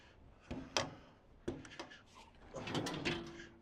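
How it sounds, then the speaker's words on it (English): A tool drawer on an NDC Avalon 21'6 Series 2 off-road camper van slides open and shut, a few sharp knocks and rubbing scrapes, close and fairly quiet. "Tool drawer."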